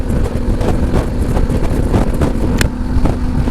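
Harley-Davidson Pan America motorcycle fitted with a Moto muffler exhaust running on the move, a loud steady engine drone with wind buffeting the microphone and no talking.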